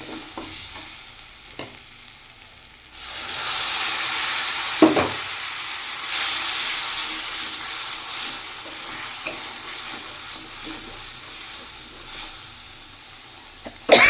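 Masala paste hisses and sizzles loudly in a hot pan as water is added, a broad steady crackle that swells and then continues with occasional stirring scrapes.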